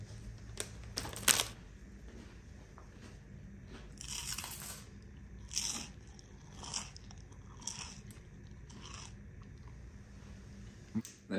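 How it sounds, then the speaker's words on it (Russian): Someone bites and chews crunchy lemon wafers, several sharp crunches and softer chewing bursts spread over a dozen seconds, close but fairly quiet over a low background hum. "Значит, вафельки съел."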